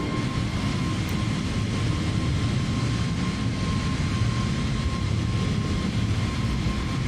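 Airbus A320 airliner taking off in Microsoft Flight Simulator, a steady loud broadband engine roar with a faint high whine running unbroken throughout, no voices.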